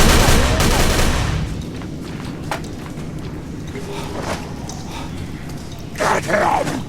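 Gunfire rattles in the video game Call of Cthulhu: Dark Corners of the Earth: a loud dense burst of shots at the start, a quieter stretch, then another sharp volley near the end.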